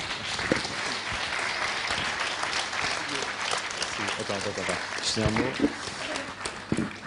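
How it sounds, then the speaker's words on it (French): Audience clapping after a physics lecture, moderately loud applause sustained throughout, with voices talking over it in the middle and later moments. "On les applaudit encore une fois."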